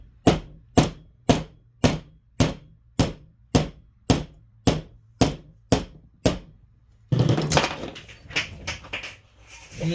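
An axle is tapped into a hub while an Open Antikythera FullMonty kit is put together. About a dozen crisp, evenly spaced close knocks come first, followed by a few seconds of rustling handling noise.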